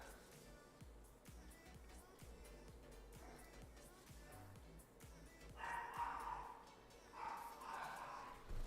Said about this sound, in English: Gotta go tell the dogs to shut up again.